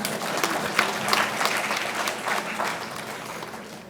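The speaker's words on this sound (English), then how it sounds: "you can clap for them" Audience applause for the organizers at the inauguration of an Indian Institute of Public Administration regional conference: a continuous wash of many hands clapping, moderately loud and even, fading slightly toward the end with no voices.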